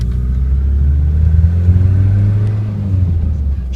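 A Lancia Zagato Abarth's engine rumbles loud and close as the car pulls away, the pitch rising and falling slightly as it revs through a short drive.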